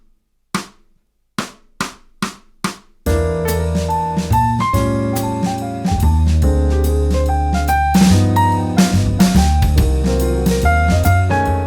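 A jazz piano improvisation combines two motifs built on minor 7 flat 5 and 5 7 flat 9 chords. Four crisp count-in clicks lead into a loud, busy flow of chords and melodic runs with a steady pulse, with no talking.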